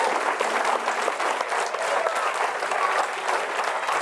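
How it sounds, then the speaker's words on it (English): An audience at a football signing ceremony breaks into steady, sustained applause, a dense wash of clapping that continues evenly throughout. "let's give this family a great round of applause for being here"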